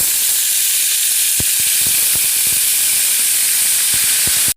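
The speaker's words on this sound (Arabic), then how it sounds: "هنحط بقى شويه خل" Vinegar poured into a hot pan while making Egyptian koshari, a loud, steady steam hiss and sizzle running the whole time with a few soft knocks, then cutting off abruptly at the end.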